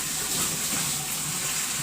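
Water gushing steadily into a washing machine, a continuous hissing rush filling a load with roughly five buckets' worth, close and loud throughout with no voices.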